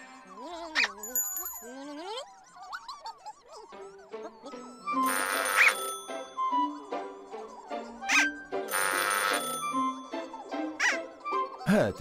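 An emergency telephone rings in a children's cartoon, with two loud bursts of bright ringing standing out amid busy cartoon music, chimes and squeaky character sounds.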